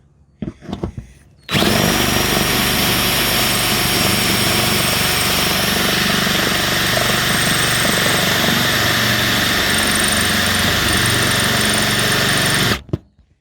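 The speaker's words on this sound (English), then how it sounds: "That's where I'm going to drill my pot rivets." A power drill whines continuously at high speed for about eleven seconds, drilling holes for pop rivets in a house truck, starting and stopping abruptly, loud and close.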